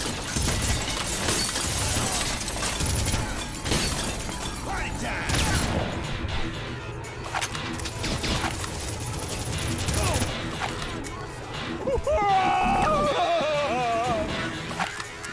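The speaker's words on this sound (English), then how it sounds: "they're gonna start shooting at us immediately" Gunfire in the video game Red Faction crackles in dense, rapid bursts amid loud game effects and voices, staying busy and continuous with a warbling tonal sound near the end.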